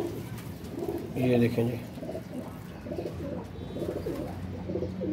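Pigeons cooing in a loft, low soft rolling calls repeating close by while someone speaks briefly over them.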